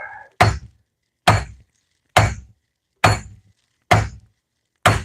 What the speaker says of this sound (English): Guess I should get a bigger hammer. But it's moving, and that's all I need.